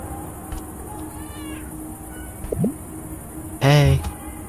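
Cats meow in the video game Until Then, a short rising meow followed by a louder, longer one near the end, heard over a steady game background with no talk.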